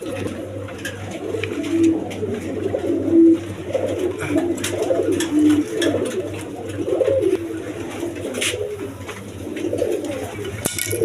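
Pigeons coo softly and repeatedly nearby, low murmuring calls overlapping in a continuous stream over a steady low hum.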